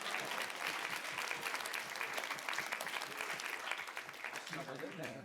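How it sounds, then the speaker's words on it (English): Audience applause at a live art-convention superpanel, a dense, steady wash of many hands clapping throughout, fairly close and full, with faint crowd voices mixed in near the end. "Round of applause for that"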